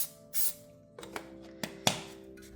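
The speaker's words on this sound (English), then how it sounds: "what I'm going to do is I'm going to lightly spray this with some oil" Cooking oil from a spray can hisses onto fondant cookies in a short, close burst, followed by a few faint clicks and taps of handling in a quiet room.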